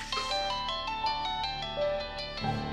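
A mobile phone ringtone plays a bright, repeating electronic melody at moderate volume, cut short near the end by a brief noise.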